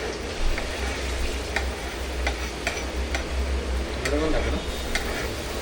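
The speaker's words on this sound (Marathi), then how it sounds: "तेल तापवल्यानंतर आपल्याला काय करायचं, आपण जो कांदा टॅमॅटो आपण कापून घेतलेला तो आतमध्ये टाकायचा आहे" Chopped onion and tomato hitting hot oil for a chicken gravy, giving a steady sizzle broken by sharp ticks of a spatula stirring the pan, with a voice speaking briefly over the cooking.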